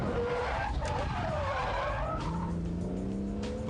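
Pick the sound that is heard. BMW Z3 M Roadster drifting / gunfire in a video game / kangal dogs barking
BMW Z3 M Roadster drifting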